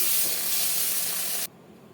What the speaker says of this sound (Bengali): আলুটা ভেজে নেব